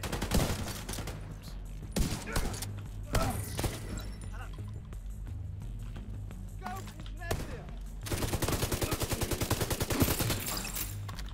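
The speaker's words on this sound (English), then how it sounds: "Someone's going for the minigun." Gunfire in the online shooter Tom Clancy's The Division 2 during a drone attack, with scattered shots and thuds followed by a sustained rapid burst of minigun fire, mixed with voices in the game.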